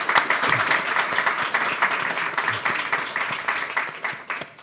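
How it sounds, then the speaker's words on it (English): An audience at a mobile learning education event applauds its panelists with steady, sustained clapping that stays fairly loud throughout and tapers a little at the end, with no talking over it. "Let's give them a round of applause."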